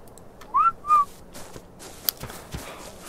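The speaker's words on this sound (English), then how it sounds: "Whistle attack my target." Two short rising whistles from a player character issuing an attack command in ARK Survival Evolved, clear and close, followed by faint footsteps and small clicks.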